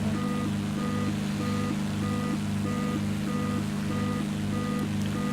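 A steady electronic warning tone beeps in a regular repeating pattern over a constant low engine drone of a Bonanza V35 in a flight simulator game, with no talking.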